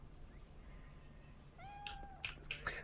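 A cat in the video game Cyberpunk 2077 gives one clear, drawn-out meow, followed by a few short, brighter mewing chirps over a quiet game-world hum.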